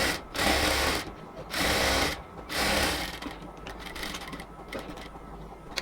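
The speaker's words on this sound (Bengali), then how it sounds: "আবার সেমভাবে হচ্ছে সেলাইটা করতেছি।" A sewing machine runs in three loud, steady bursts of stitching along a cotton dress seam, separated by short pauses, then gives way to quieter clicks and handling noises up close.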